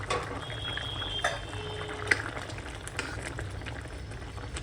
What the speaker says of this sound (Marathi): आणि आता 6-7 मिनिटं बारीक मीडियम गॅसवर आपण शिजवून देऊया.